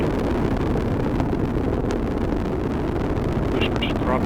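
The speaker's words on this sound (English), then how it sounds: "And the Atlas rocket carrying OSIRIS REx has gone supersonic." An Atlas rocket carrying OSIRIS-REx roars during launch, a steady loud rumble with broadband noise and wind buffeting throughout.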